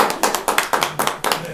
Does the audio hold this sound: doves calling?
no